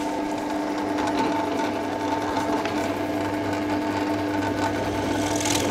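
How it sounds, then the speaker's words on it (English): Steady whirring drill running continuously with a countersink bit, cutting cone-shaped recesses around screw holes in wood for a hedgehog house, a constant motor drone close by with no pauses. "we can just whiz around all these holes that we drilled and make sure we've got that nice little countersink"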